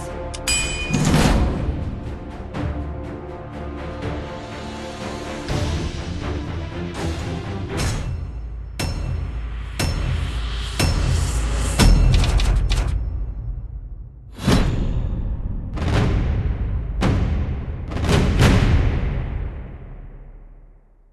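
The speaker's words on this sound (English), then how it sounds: "Ready for some fireworks?" Fireworks explosions in the video game Heroes Evolve, a string of sharp booms and whooshing bursts, loud and irregular, spread across the stretch with no voices.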